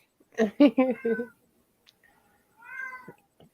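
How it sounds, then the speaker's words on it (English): Several house cats meow loudly in a quick burst of four close calls, followed by a quieter, drawn-out meow a moment later, with no talking over them. "I don't know what they're meowing about"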